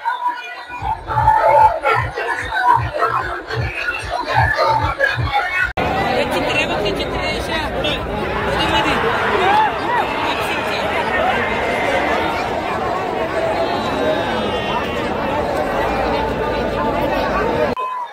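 Dense crowd chatter at a bullock cart race in Sangli, a loud steady babble of many voices close around with shouts mixed in, after an opening stretch of rhythmic thumping.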